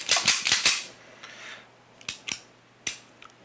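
Beretta 92FS pistol handled close up: a quick run of sharp metallic clicks and snaps as the hammer is cocked, followed by a few separate clacks about a second apart as the safety decocks it.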